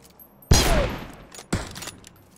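Two sharp gunshots in the PUBG battle royale game, about a second apart, each a loud close blast with a quick fading tail and no talking.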